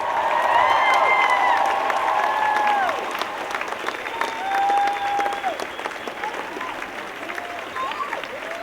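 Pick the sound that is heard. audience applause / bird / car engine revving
audience applause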